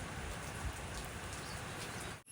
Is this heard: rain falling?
yes